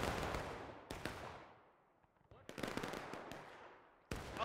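Enemy musket volleys in the Civil War game War of Rights, crackling bursts of many shots from a distance with echoing tails, a lull in the middle, then another burst at the end.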